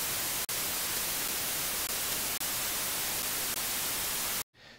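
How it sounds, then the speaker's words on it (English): Synthesizer white noise oscillator played from a keyboard, an unpitched steady hiss held for about four seconds with a few faint clicks, then cut off. "if I strike the key now, what we'll hear is we'll hear a white noise"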